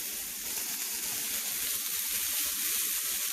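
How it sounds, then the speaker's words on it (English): Peppers and onions sizzle steadily in a hot pan, a continuous close, bright frying hiss with no talk over it. "We're just going to cook this until the peppers are nice and tender"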